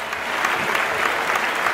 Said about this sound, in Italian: facciamogli un applauso, che musicista